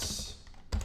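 Quiet typing on a computer keyboard, a handful of soft key taps close by, ending in a slightly louder clack.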